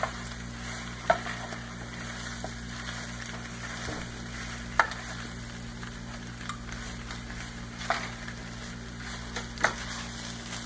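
Stir fry cooking over medium-high heat, with a steady low sizzle in the pan broken by a few sharp scrapes and clinks of stirring, all fairly quiet with no talking.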